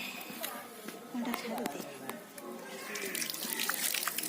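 Government-supplied water runs from a tap outdoors, a continuous splashing flow with small drips and clatter, fairly quiet and low in level.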